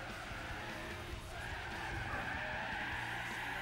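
Car drifting through a chicane in Gran Turismo 4, with a steady, loud tire skid and engine roar running continuously over the whole stretch.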